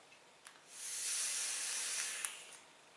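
A quiet, steady hiss of vapour comes from a vape being drawn on with a 50-50 blueberry cupcake and whipped cream e-liquid, building over a couple of seconds with small clicks at the start and end.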